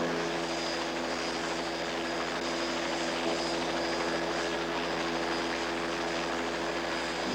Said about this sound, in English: I'm taking this chopper, Corporal.